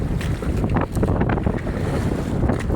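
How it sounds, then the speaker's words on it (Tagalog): Strong northeast monsoon wind gusting over open sea during a fishing trip, a loud continuous roar of wind buffeting the microphone with waves and water sloshing around a boat, no voices. "Malakas na naman yung amihan"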